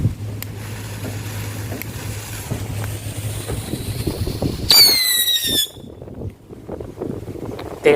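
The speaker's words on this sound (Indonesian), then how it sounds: "Sekarang kita cobain 3 petasan tikus." A single Indonesian "petasan tikus" firecracker pops loudly, followed by a descending whistling squeal, over a steady low hum and outdoor background noise.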